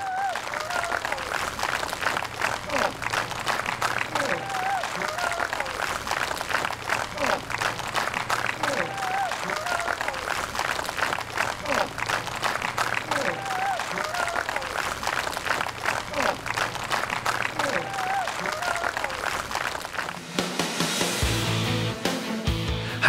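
Crowd applause after a 648 kg lift at a team strength sports world championship in Esztergom, a long continuous round of clapping with cheering voices and an announcer talking over it, shifting in character near the end.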